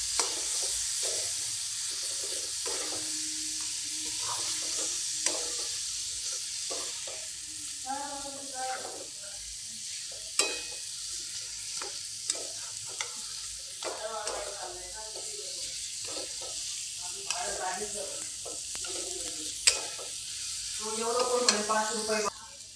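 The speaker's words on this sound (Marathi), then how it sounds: "आता छोले टाकले मस्त परतून घ्यायचे" Chickpeas for chole sizzle and fry in a pan with spices while being stirred, a steady crackling hiss that runs under a person talking throughout.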